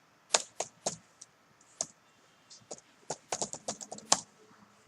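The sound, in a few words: typing code on a computer keyboard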